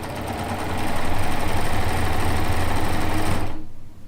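A sewing machine runs steadily stitching quilt seams, a fast close mechanical chatter that swells in and holds for about three seconds, then cuts off abruptly into near silence.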